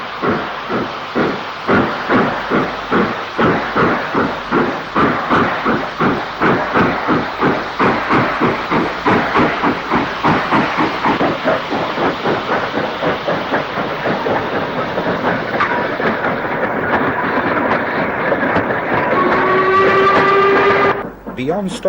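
An LMS 8F steam freight locomotive passes close by on a railway near Stockport, its loud rhythmic exhaust beats and clanking wagons running steadily throughout, ending in a brief high whistle-like tone.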